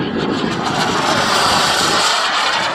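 A Carf Models Bolt turbine model jet makes a fast pass, its loud, close whooshing jet roar swelling to a peak and then easing off.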